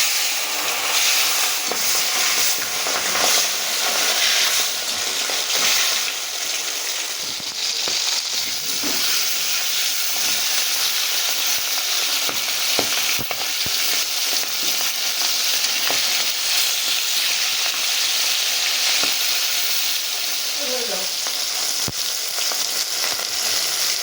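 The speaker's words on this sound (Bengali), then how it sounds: "তেলটা গরম হয়ে গেছে এবার মাছগুলো আমি ভেজে নিচ্ছি" Tangra fish frying in hot oil in a wok, a loud, dense continuous sizzle with crackling spatter and occasional stirring scrapes, close up and without talk.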